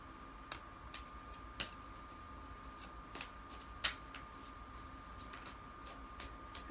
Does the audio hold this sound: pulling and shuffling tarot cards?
yes